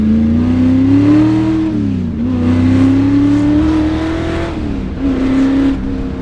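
A 1965 Shelby GT350 Mustang accelerates on Los Angeles streets, its side-pipe exhaust blaring loud and near. The engine note climbs steadily, dips at gear changes, then climbs again.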